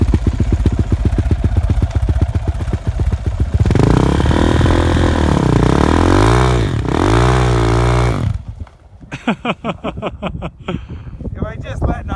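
A Yamaha YZ450F dirt bike engine revs loudly in snow, its pitch rising and falling under heavy throttle with wind buffeting. The roar then breaks into choppier, stuttering bursts near the end.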